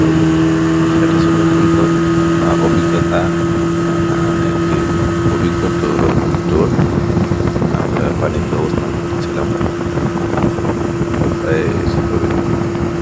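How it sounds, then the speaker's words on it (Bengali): A speedboat running from Sunamganj toward Taherpur gives a loud, constant engine drone with a steady tonal hum, mixed with wind and water noise for the whole ride. "তো আমরা স্পিড বোট দিয়ে যাচ্ছি সুনামগঞ্জ থেকে তাহেরপুরের উদ্দেশ্যে"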